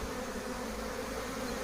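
Honeybees swarming at the Santeny apiary near the hives, a dense continuous hum of many wings, steady and close throughout with no talk.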